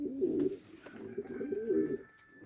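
Pigeons coo in low, rolling bursts, close and fairly loud, with a faint steady tone behind; one is a caught black male pigeon.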